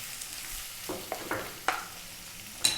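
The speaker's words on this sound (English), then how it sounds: "And then what we're going to do is drop in our 1 cup of onion," Finely chopped onion, about a cup, dropped into hot oil while cooking an Indian vegetable dish, giving a soft steady sizzle with a few sharper crackles and spits, close and without talk.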